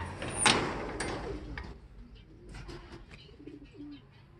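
Racing pigeons returning home give a few soft coos and calls outdoors, with a sharp knock near the start and quieter rustling after.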